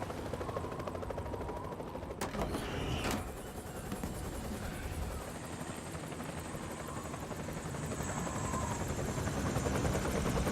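A helicopter with no tail rotor in the video game Metal Gear Solid 4 gives off a steady, close whirring drone, with a couple of sharp clanks early on and the loud hum running throughout.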